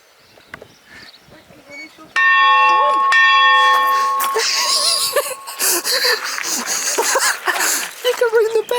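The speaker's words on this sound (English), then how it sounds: "That bell still has the rope on it, so you can ring it." An old bell rung by pulling its rope gives one loud ringing strike that hangs and decays over a few seconds, with people laughing and talking around it.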